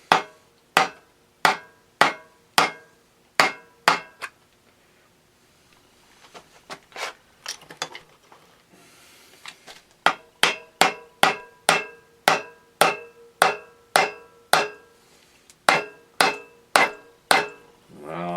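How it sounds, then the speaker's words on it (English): Sharp metallic taps from the butt end of a hammer striking piston rings on a disassembled Tecumseh H70 small engine, a steady run of evenly spaced knocks, a quieter rattling pause, then more regular taps. "Just use the butt end of the hammer and tap it and the rings will go down."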